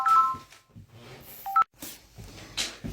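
Telephone tones: a couple of brief electronic beeps like keypad dialing sound up close, mixed with handling clicks and soft background noise.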